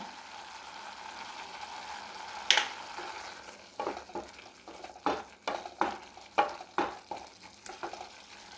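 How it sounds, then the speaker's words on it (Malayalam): Pineapple payasam mixture stirred in a pan, a spoon scraping in a run of soft, uneven strokes over a low simmering hiss, with a sharper clink early on and steadier rhythmic scrapes toward the end. "എല്ലാം കൂടെ ഒന്ന് മിക്സ് ചെയ്യാം."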